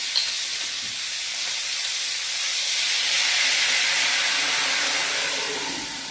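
Lamb chops (abbacchio scottadito) sear in a pan as a splash of wine goes in, giving a loud, steady, steamy sizzle and hiss that swells in the middle and eases toward the end, with no talking.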